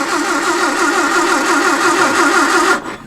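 A 1956 Standard 8 car engine cranks on its starter with throttle applied, a steady, close, rhythmic churning whir that runs unbroken for nearly three seconds before cutting off abruptly.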